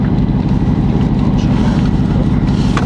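A Jeep Grand Cherokee Trackhawk engine gives a deep, steady rumble, loud and close, with a heavy diesel-like drone and little variation.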